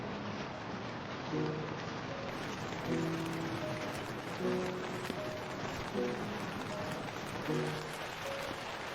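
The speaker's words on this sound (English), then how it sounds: "Let your body and mind completely relax to the white noise of the heavy rain." Heavy rain pours steadily onto an inflatable tent during a massive rainstorm, a dense, even hiss of drops on the fabric with soft tonal sounds drifting faintly through it.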